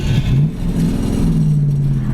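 A 1965 Ford Mustang coupe engine revs close and loud, holding a steady mid-pitched drone that rises slightly as it is pushed through the gears, with no talk over it.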